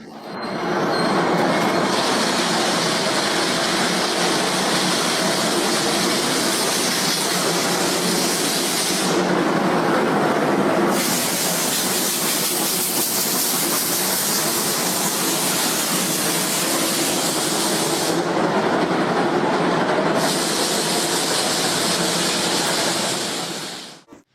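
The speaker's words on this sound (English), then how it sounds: "This was the final run of the Japanese steam locomotive in 2018." On its final run in 2018, a Japanese steam locomotive hauls its train past in a loud, continuous roar of rolling wheels and machinery, with steady hissing that swells and dips over a long stretch.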